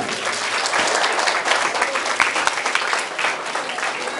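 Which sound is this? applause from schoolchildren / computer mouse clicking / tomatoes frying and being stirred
applause from schoolchildren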